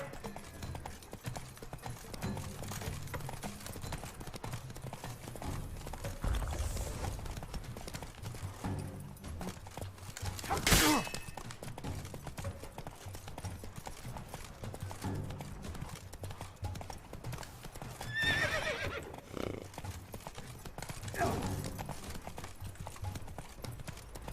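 A horse in The Witcher 3 trots with steady clip-clop hooves for the whole stretch, broken by a few neighs and snorts. A voice speaks in bursts over the top.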